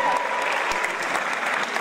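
Audience applause for a folk dance group at an immigrants' festival of Volga Germans, a dense steady wash of clapping filling the whole moment at close range with no voices over it.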